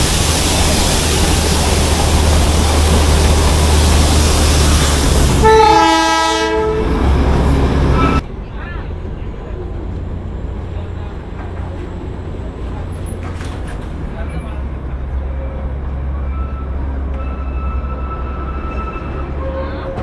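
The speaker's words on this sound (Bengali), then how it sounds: "এইভাবেই আঁকা বাঁকা পথে ঘুরতে ঘুরতে টয় ট্রেন আমাদের চলেছে রংটংয়ের পথে।" Darjeeling toy train running on a winding hill route toward Rongtong, its horn sounding loudly in a series of rapid pulses mid-run over a steady rumble of wheels and engine, then continuing as a quieter rolling clatter.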